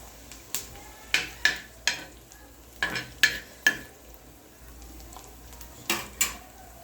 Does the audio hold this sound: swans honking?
no